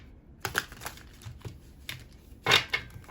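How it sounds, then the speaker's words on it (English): Crisp papery riffling bursts of a tarot deck being shuffled, several quick shuffles with short pauses between, close and fairly quiet, with no talking. "I'm going to go ahead and shuffle the cards"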